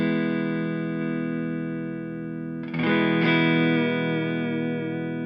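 A sustained, clean electric guitar chord from a Reverend Airsonic W rings out steadily, then is re-struck partway through and keeps sustaining, with no voices.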